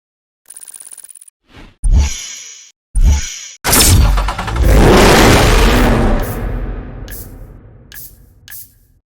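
Lamborghini Gallardo LP 564 engine in Need for Speed Hot Pursuit Remastered: a few short, sharp bursts, then a loud, close, sustained roar that slowly tapers off, with brief swishes near the end.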